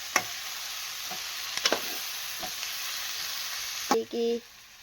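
Oil heating in a pan on a home gas stove while it is being stirred, for a sandwich filling. A steady, soft sizzle runs throughout, with a few clinks from a spoon against the pan.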